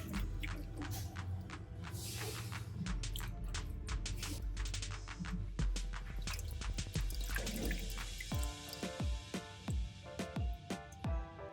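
Water splashes and drips steadily as coriander is swished and rinsed in a basin, with small sloshing bursts and trickles throughout.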